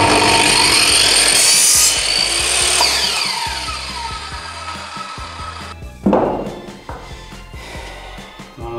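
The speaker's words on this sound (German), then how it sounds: "sägen uns hier hinten einfach ein Stück ab" Hand-sawing a piece off the end of an extra-large wooden rolling pin, a steady rasping stroke that runs loud and continuous for several seconds, then a sharp scrape as the cut finishes and the sawing tails off.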